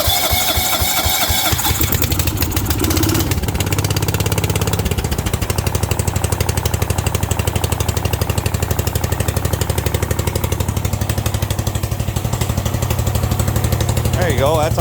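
John Deere 160 lawn tractor engine cranking, catching and then running steadily at a loud, close, rapid chugging idle, with someone talking over it at times.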